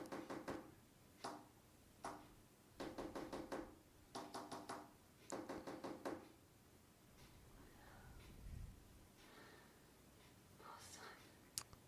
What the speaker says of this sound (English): I thought there was someone knocking on the door.